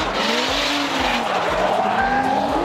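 A turbocharged Nissan 200 SX race car drifts at a speed festival, its engine note rising and falling with loud, sustained tire squeal, close and dominant.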